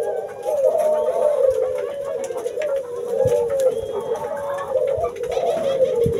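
Puter doves kept in a small breeding cage coo continuously in repeated rolling calls, close and clear, with faint background rustling.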